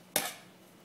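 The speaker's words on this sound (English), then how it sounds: "So you mush the plantains." Fried plantains are smashed flat for tostones with a single sharp thud and clatter against a kitchen surface, followed by a brief fading ring, close and alone.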